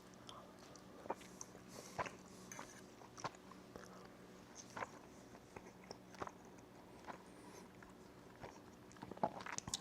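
Someone chews a piece of wild king salmon close to the mic, soft wet bites and mastication clicks repeating irregularly at low volume.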